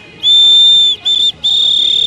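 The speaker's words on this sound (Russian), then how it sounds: "ручка-свисток" A toy pen with a built-in whistle is blown in three shrill bursts, a long blast, a short one, then another long one, loud and close.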